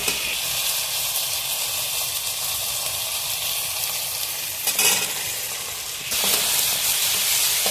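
Beef with chui jhal bark frying hard in a pan, a loud unbroken sizzle and hiss that rises sharply with a stir or fresh addition midway, with no voices.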